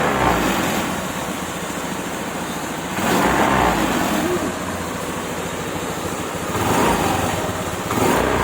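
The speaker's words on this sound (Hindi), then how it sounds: "गाड़ी स्टार्ट हो चुका है" A Honda Activa 3G scooter engine runs steadily after repair, a continuous mechanical hum with a few swells where the throttle is opened, close to the microphone.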